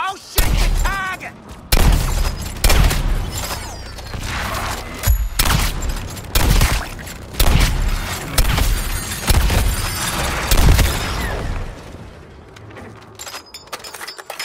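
Rapid bursts of gunfire with booming impacts and shattering debris in the Suicide Squad: Kill the Justice League video game, loud and repeated across the scene, with character voices talking over the action.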